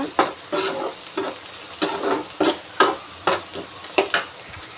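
Onions sautéing in a pan for brinjal curry, an oily sizzle broken by a steady rhythm of close stirring scrapes, roughly two strokes per second, with no voices.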